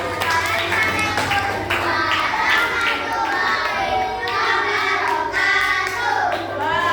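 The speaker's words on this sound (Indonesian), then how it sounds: "Oke, kita beri tepuk tangan untuk kelompok 2." A class of young schoolchildren in an Indonesian classroom claps and cheers for a group, steady hand claps mixed with children's shouting and chatter throughout, moderately loud and close.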